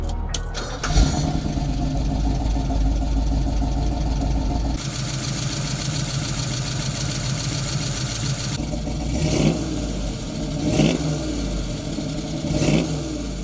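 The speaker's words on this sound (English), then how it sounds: "Number 8, 1968 Chevrolet Camaro Z28 RS," A 1968 Chevrolet Camaro Z28 RS powers down a quarter-mile strip, its loud engine roaring steadily and then shifting in tone through a couple of rising surges, heard close with no talk.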